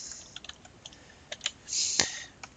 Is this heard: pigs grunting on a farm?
no